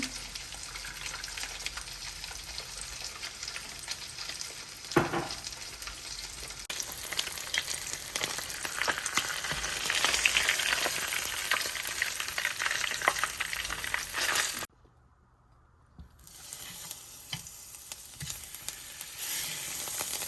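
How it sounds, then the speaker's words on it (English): Two cups of heavy cream poured into a hot pan still greasy from frying salmon and melting garlic butter, a loud steady sizzle with stirring, cut to near silence briefly before the frying hiss returns. "Alright, let's add in our heavy cream. I'm using 2 cups of heavy cream."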